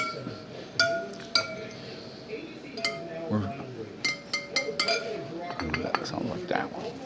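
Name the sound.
bicycle wheel spokes being tapped during a spoke check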